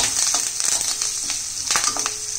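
Okra sautéing with turmeric and curry leaves in a pan, a continuous crackling sizzle with a few stirring scrapes, close and steady, no voices.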